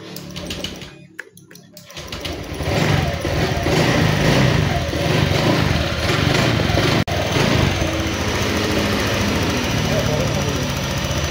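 A Honda Vario 150 scooter engine runs after starting, a loud, steady idle with a buzzing drone holding close and constant for most of the stretch after a brief quieter opening.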